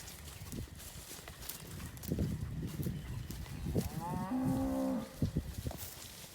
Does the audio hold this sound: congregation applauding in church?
no